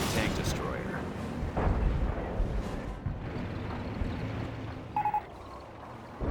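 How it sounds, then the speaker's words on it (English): Artillery barrage from a Hummel self-propelled gun in the real-time strategy game Company of Heroes, with dull booms and rumbling impacts spread through a busy battle soundscape and a brief sharper burst near the end. "Hummel barraging"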